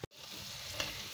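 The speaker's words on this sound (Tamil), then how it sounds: "தள்ளி தள்ளி போட்டுடுங்க பாருங்க நல்லா வெந்துட்டு இருக்குது" Cauliflower pieces frying in hot oil for cauliflower chilli, a steady faint sizzle with a small pop, heard close and without talk.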